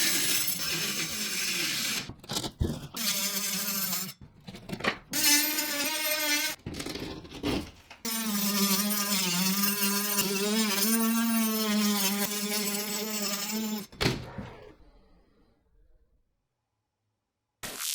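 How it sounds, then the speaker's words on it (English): A multi-material power saw whines loudly through Durock cement board, cutting a shower niche opening, in several short bursts separated by brief pauses, then one long steady cut before stopping. "They're just cutting out the hole in the durock for the shower niche in the master"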